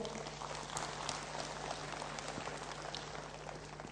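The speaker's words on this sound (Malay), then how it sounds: "Satu tepukan gemuruh." Faint, steady applause from university staff at a meeting with the vice-chancellor, a soft, continuous patter of many hands heard at a distance over a low electrical hum.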